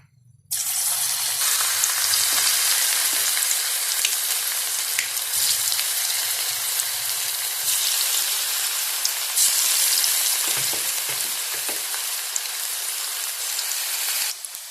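Cauliflower pieces for gobi fry sizzle and crackle steadily in hot oil, a loud continuous frying hiss that runs unbroken for the whole stretch with no voices over it.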